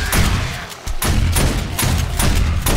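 A shotgun in a video game booms in sharp, loud blasts about every third of a second to half second, each followed by a short rumbling tail, with no talk.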